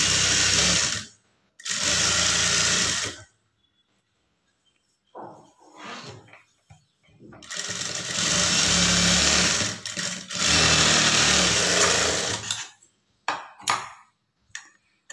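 Sewing machine stitching the lining of a blouse, running in several loud, steady whirring bursts with short pauses and handling sounds between them.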